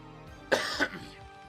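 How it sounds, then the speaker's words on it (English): A single harsh cough, split into two quick throaty bursts, comes close to the microphone from a caster during a game broadcast, with quiet background in between. "I'm sorry I keep coughing."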